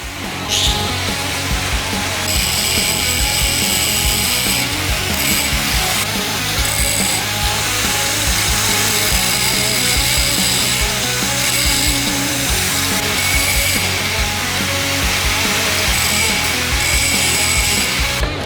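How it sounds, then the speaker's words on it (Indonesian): A power grinder trims excess material from beneath the hook of a connector in a manufacturing workshop, giving a loud, continuous, rough grinding whine with brief dips in pitch and intensity, heard alone with no talk. "Lakukan proses gerinda berada di bawah pengait."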